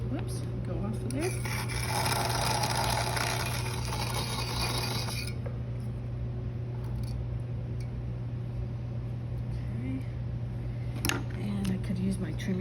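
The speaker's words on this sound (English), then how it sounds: "Use my trimming tool here and just trim some of that extra off as well." A pottery trimming tool scrapes extra clay off a lidded jar, giving a steady close rasping rub over a constant low hum, louder at first and then thinner.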